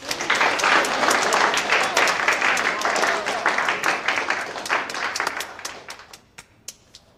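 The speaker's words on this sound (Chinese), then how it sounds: "我建议我们为他的进步鼓掌" A classroom of students bursts into sustained applause, dense and loud for several seconds, then thins into a few scattered, fading claps.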